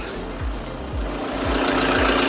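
An engine runs with evenly spaced low thumps beneath a broad, airy hiss that grows slightly louder toward the end.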